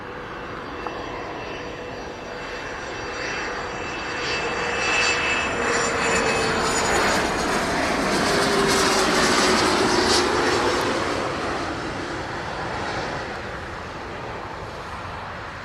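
A large A330 airliner landing at Montego Bay airport in Jamaica, its engine roar swelling from a steady drone to a loud close pass in the middle and then slowly easing off, with no voices.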